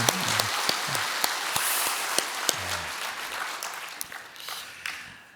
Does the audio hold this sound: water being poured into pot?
no